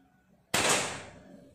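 A single sharp, loud report from a Libas full-CNC air rifle set to its lowest power, a sudden crack that decays over about a second, close by, with no talking.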